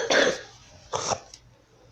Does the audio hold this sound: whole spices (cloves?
no